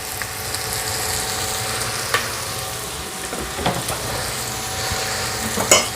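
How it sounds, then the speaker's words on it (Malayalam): Onions sizzling steadily in hot oil in a pan, with a continuous close crackle and a few brief stirring clatters, no voices. "കുറച്ച് എണ്ണ ഒഴിച്ചിട്ടുണ്ട്. അപ്പോൾ നമുക്ക് ഈ ഉള്ളി ഒന്ന് മൂപ്പിച്ചെടുക്കാം."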